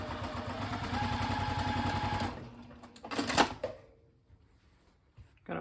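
A sewing machine stitching fabric pieces right sides together, a steady fast whirring hum for about two seconds, then it stops and a few clicks and handling noises follow. Someone speaks faintly.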